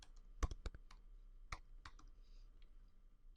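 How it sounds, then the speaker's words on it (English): Someone types on a computer keyboard, entering text into an email field; a handful of sharp, close key clicks in an irregular burst, then a pause and a few more taps, quiet with no talking. "You have to type something in the email."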